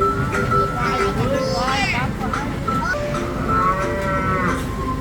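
Murrah dairy buffaloes lowing at a farm attraction, several drawn-out moos rising and falling across the clip over a constant rumbling background of engine noise and chatter.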